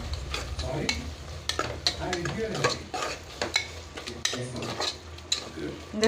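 Spoon scraping and clinking steadily against a cooking pot as a home-cooked Sunday dish with added water is mixed, with repeated close metallic strokes over a soft sizzle.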